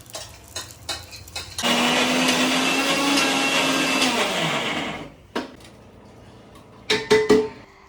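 An electric mixer grinder whirs steadily for about three seconds while grinding green chillies finely in a home kitchen, then winds down, with clinks and knocks of the jar before and after.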